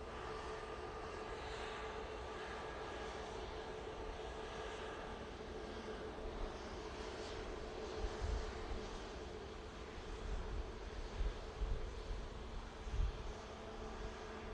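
A Qatar Airways airliner passes over Manchester Airport as a steady, broad jet roar that swells slightly toward the end, heard from a distance with no talking.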